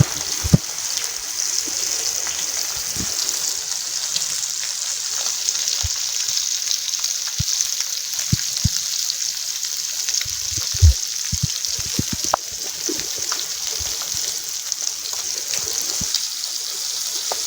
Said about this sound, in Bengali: বাকি মাছগুলো আমরা আবারও এভাবে ভেজে নেব কড়া করে।